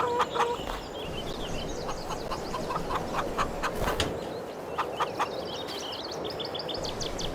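Chickens in a Farming Simulator 22 coop cluck and chatter continuously over a constant background hum, with several louder bursts of clucking scattered through.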